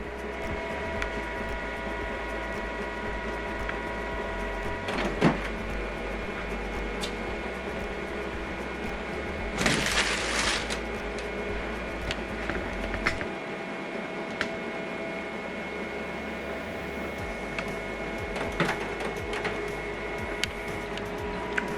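HP printer running color calibration, a steady mechanical hum with tonal whine, punctuated by brief whirring bursts and clicks of moving parts, continuous throughout without speech.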